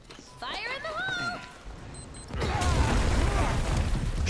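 A bomb blast in Final Fantasy 7 arrives as a sudden heavy boom partway through and swells into a loud, sustained rumble, preceded by a short stretch of speech.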